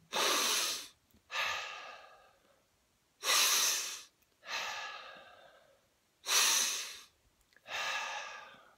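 Slow nasal breathing exercise in the Wim Hof method with cheeks pressed just below the cheekbones: three cycles of loud, close inhales through the nose, each followed by a long airy exhale, with no talking.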